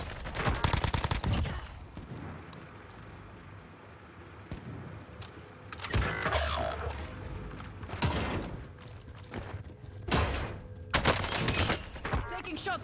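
Gunfire in a Call of Duty match on the Rebirth map with an AK47, with bursts of rapid shots at the start and again later, some more distant pops in between, over continuous game noise.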